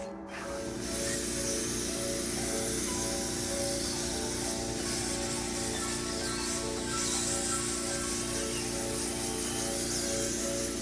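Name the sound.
air spray gun painting a gas-cylinder mailbox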